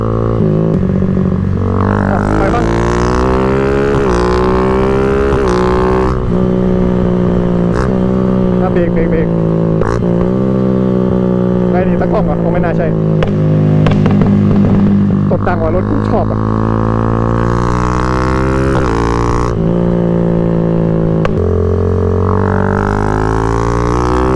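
Motorcycles ridden fast along a winding road, engines revving and shifting pitch continuously at close range while voices talk over the top throughout.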